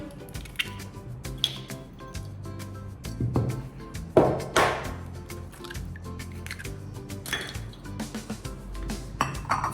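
Batter ingredients for onion fritters are mixed in a kitchen bowl: flour with baking powder, then eggs, with close clinks and scrapes of utensils against dishes and occasional soft squishing, irregular and moderately loud.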